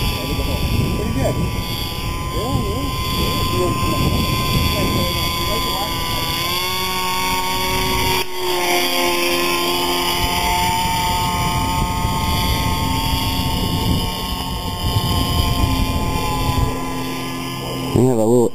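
A Big Stik RC model airplane engine drones at a high, steady whine that shifts pitch now and then and runs through the whole stretch, loud and fairly near. People talk over it throughout.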